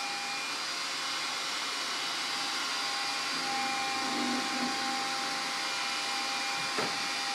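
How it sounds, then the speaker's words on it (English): A household vacuum cleaner runs continuously with a loud, steady whine and broadband roar, close by and alone, with a brief bump near the end. "Are you vacuuming my house?"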